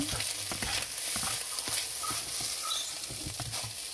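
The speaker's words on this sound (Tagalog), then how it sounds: "Halo-halo para hindi didikit sa kawali natin." Black rice with ham and eggs is stirred in a frying pan, giving a constant close sizzle under quick, irregular scraping and tapping strokes of the spatula.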